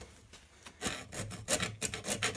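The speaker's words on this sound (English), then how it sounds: "So now we're gonna file this out a little more." A hand file rasps against wood in repeated short strokes, a scratchy rhythmic scraping that grows louder after the first second.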